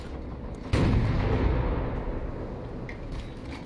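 Naval guns firing in War Thunder, one sharp heavy boom followed by a long rumbling roll that slowly fades, loud and alone without voices.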